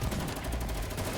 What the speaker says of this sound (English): The other dolls of 404 immediately lay down full auto fire to suppress Igla